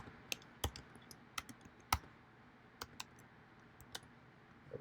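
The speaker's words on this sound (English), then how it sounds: "Type in your password again." Password typed on a Mac keyboard, with about a dozen crisp, irregularly spaced key clicks close by in a quiet room.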